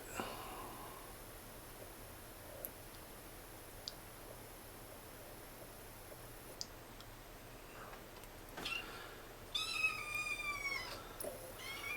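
A cat meows a few times near the end, fairly close, in a kitchen, after a long stretch of quiet room noise with occasional faint clicks.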